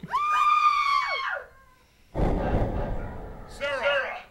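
A character in the video game Hellboy: Asylum Seeker lets out a loud, sustained scream that cuts off, followed after a short pause by a crash of noise and then another shriek.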